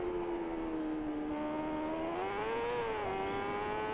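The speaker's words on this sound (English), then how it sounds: "slight rise in revs as we get on the power" A superbike engine in the TT Isle of Man 3 racing game drones steadily and close, its pitch holding level and then climbing slightly as the throttle opens, settling a bit higher near the end with no pause or talk.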